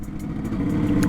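A 1973 Yamaha RD 250 motorcycle rides along with a steady, close engine drone that builds slightly in loudness, a busy low mechanical rumble continuing throughout with no talk.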